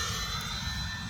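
A Freewing A-10 80mm RC jet with twin ducted fans flies past, giving a continuous broadband jet roar with steady whine. It stays loud and sustained throughout, with no talk.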